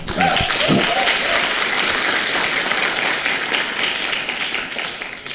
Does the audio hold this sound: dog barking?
no